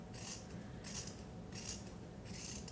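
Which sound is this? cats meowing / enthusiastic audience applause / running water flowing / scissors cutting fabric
scissors cutting fabric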